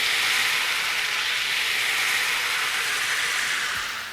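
White wine and butter sizzle steadily in a hot skillet, a loud continuous bright hiss that stays even throughout with no voices over it.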